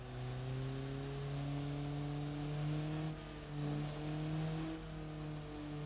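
A struggling car engine in the Automation car company tycoon game revs steadily and loudly with a thin, buzzy tone, climbing and dipping over several seconds with no talk.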